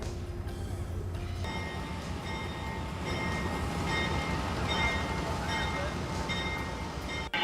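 Amtrak Genesis diesel locomotive pulled slowly out of a roundhouse onto a turntable, a steady low engine rumble with a sustained tonal drone, loud and continuous throughout.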